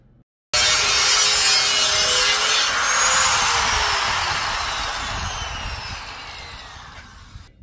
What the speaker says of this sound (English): I use these cutting wheels. I ain't never like using them, but they work.